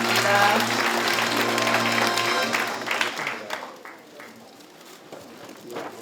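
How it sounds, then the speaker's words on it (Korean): Applause from the audience at an agricultural research results sharing event in Gyeongbuk, a broad sustained clatter that starts loud and fades after a few seconds, with voices murmuring underneath. "큰 박수 보내주시기 바랍니다."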